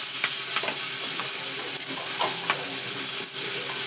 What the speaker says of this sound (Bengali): এখন যা কিছুই দাও ফাটতে শুরু করে দেয়। তেলের মধ্যে কড়াই তেল দিলেও ফাটতে শুরু করে দেয়।